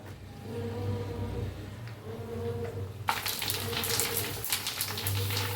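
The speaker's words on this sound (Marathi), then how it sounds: "तेल बी आपलं चांगलं गरम झालंय। तळून घेऊया पुऱ्या।" Puris drop into hot oil for pani puri, and after a few quiet seconds a steady, bubbling deep-fry sizzle breaks out and continues close by.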